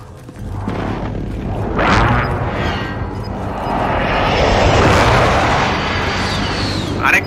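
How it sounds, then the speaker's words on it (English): Precision airstrike in Call of Duty Warzone: an aircraft roar sweeps overhead followed by rolling, loud explosions that swell and rumble for several seconds, with some voice chatter mixed underneath. "Be advised, friendly precision airstrike inbound."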